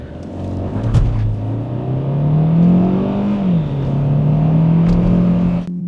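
A Kia XCeed with a 1.5 engine in Sport mode pulling hard on a wet road, the engine note rising steadily through the revs with a brief dip as it shifts, then droning on over a loud road rumble from inside the car.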